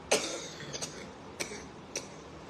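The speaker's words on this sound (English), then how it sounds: "Coughing." A few short coughs, quiet and slightly distant, spaced out over a couple of seconds.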